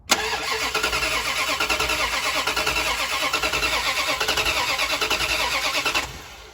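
A classic car engine, from a 1967 Dodge Coronet or 1966 Buick Wildcat, cranks cold with rapid, rhythmic starter pulses for several seconds, then catches and cuts off, loud and close-up.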